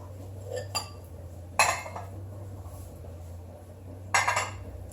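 Bowls are set out on a table being laid, giving a few distinct ceramic clinks and knocks spaced apart over a quiet low hum.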